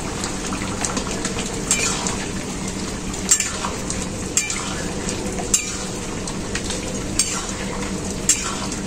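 Chicken curry broth boils hard in a pot, a dense, continuous bubbling hiss punctuated by sharp pops every second or so, close and loud with no one speaking.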